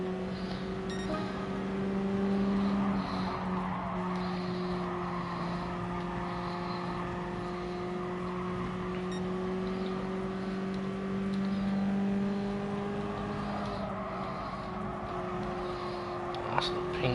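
Race car engines in Gran Turismo Sport drone steadily, their pitch sliding up and down through gear changes as the cars run on in a continuous roar.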